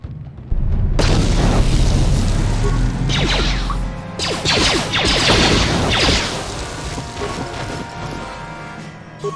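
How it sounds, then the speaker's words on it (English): Frag grenade explosions in the video game Star Wars: Knights of the Old Republic: loud, heavy booms with crashing debris that roll on for several seconds, one blast following another. "More frag grenades."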